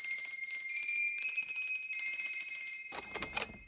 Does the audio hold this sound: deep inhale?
no